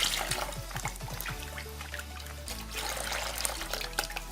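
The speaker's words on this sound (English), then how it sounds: "I am going to take more water in the bowl" Warm salted water poured into a bowl for a foot soak, a close, steady trickling splash with small drips, alone and fairly quiet.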